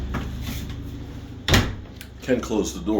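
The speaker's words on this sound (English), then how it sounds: "And we can close the door." A door in an old farmhouse, closing off a washing machine, thuds shut partway through, a single solid knock over steady room noise, with a person talking nearby before and after.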